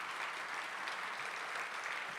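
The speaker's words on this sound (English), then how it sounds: "One more round of applause" Audience at a homecoming alumni luncheon claps for School of Theater and Dance students and alumni, a soft, even wash of applause heard from a distance, steady from start to finish.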